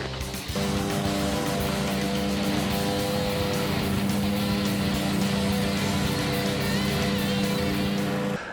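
Kubota zero-turn mower engine running after a cold start with the choke on, a steady loud mechanical drone that kicks in abruptly and holds an even hum close by.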